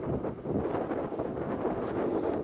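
Cold wind gusting across a frozen lake during ice fishing, buffeting the microphone in a continuous low rumble with uneven surges, no speech.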